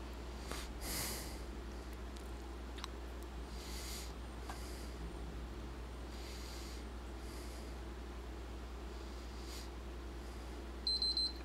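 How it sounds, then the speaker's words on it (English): A PlayStation 3 console emits a brief electronic system beep near the end, a short cluster of high tones after a long stretch of low hum and faint background noise. "you'll hear the system beep."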